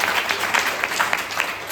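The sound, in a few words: devotees clapping hands for Radha Govind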